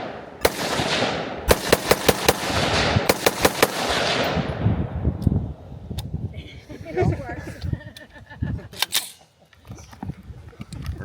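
Handgun fire after a jam was cleared: rapid clusters of sharp, loud shots crack out over the first four seconds, followed by sparser single reports, with people talking throughout.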